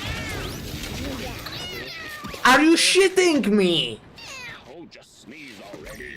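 A cat meows repeatedly in the video game Mewgenics, with several drawn-out, wavering meows, some loud and some softer, heard alongside a person talking.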